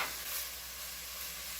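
Carrots cook in a pan with a quiet, steady sizzle and soft stirring texture, a faint continuous hiss with no talk.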